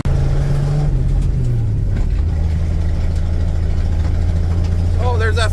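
A 1977 Ford 300 straight-six pulls hard under load, a steady low drone whose pitch drops at about one second and again near two as the gearbox shifts up into fourth, with a brief higher whine near the end.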